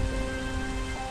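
Heavy rain falls in a cartoon, a constant dense hiss over a steady hum, loud and even throughout the short stretch, with no voices.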